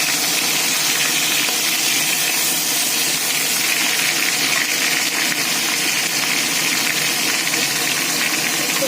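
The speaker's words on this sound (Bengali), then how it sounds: "বড় একটা কাতলা মাছকে এনেছিলাম, তারই মাথা এটা। এটা একটু ভেজে নিই।" A catla fish head fries in a pan with ginger paste, giving off a loud, continuous sizzle and hiss of hot oil that stays steady throughout with no talk over it.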